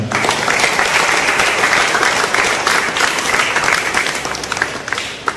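A church congregation at the feast of Our Lady of the Rosary in Rukadi breaks into loud, sustained applause filling the hall, easing off only near the end.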